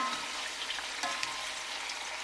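A quiet, continuous sizzle of meat browning in a pot with garlic cloves, bay leaves and onion, with faint crackles and pops throughout and no talking.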